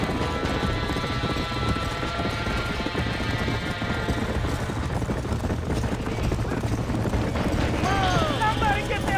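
Horses trapped in a burning barn in the video game Red Dead Redemption, hoof clatter and agitated animal noises inside a dense, continuous roar of fire and chaotic action, loud throughout with voices mixed in.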